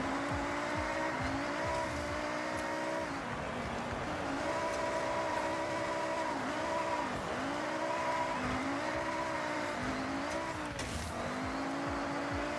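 In a racing video game, a race car's engine drones and revs continuously, its pitch climbing and falling through repeated swells as the throttle opens, with a faint tire hiss underneath.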